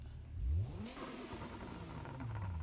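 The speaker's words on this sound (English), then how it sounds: "We want to hear that turbo and that exhaust screaming." Turbocharged G37 with a straight-piped dual exhaust revving in BeamNG.drive, a low engine note sweeping up then holding a steady mid-pitched drone with a faint turbo whir, close and moderately loud.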